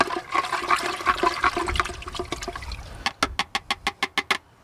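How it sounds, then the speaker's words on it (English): Liquid is poured through a funnel while a 1967 Ford F250 is being revived after 16 years off the road. A steady, gurgling rush runs for about three seconds, then gives way to a row of evenly spaced sharp clicks. "Okay, we're going to go ahead and pour this down in there. I'm just going to use the funnel to mix this up real good."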